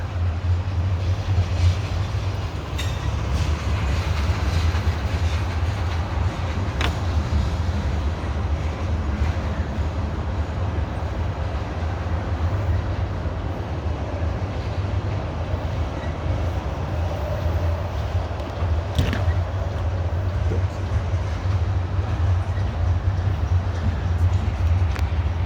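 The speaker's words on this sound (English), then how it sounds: "One long heavy train." A long, heavily loaded CSX coal train climbs Parrs Ridge on the B&O Old Main Line, a steady deep rumble and grind of cars rolling past nearby, with occasional squeals and clanks over the continuous roar.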